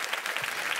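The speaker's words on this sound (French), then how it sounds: "J'aimerais entendre un petit peu plus d'applaudissements," A live audience at Radio France's 2025-2026 season launch evening gives a brief, moderately quiet burst of steady applause, many hands clapping together in an even patter with no voices over it.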